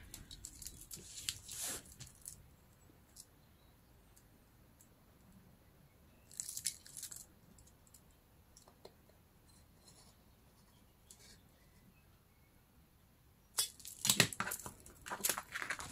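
A craft knife slices a slot in paper along a ruler, producing short, faint scratchy scraping bursts near the start, in the middle and near the end, separated by quiet pauses.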